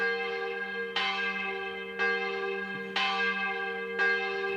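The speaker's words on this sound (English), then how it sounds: "I don't know why all of a sudden they started ringing the bell" Church bells ringing in Switzerland, four strong clangs struck about once a second, each leaving a long ringing hum, loud and alone without talk.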